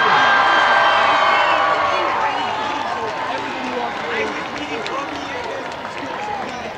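A large crowd at a high school homecoming football game cheers and applauds after the homecoming queen is named, a loud sustained roar of voices and clapping that slowly fades over several seconds.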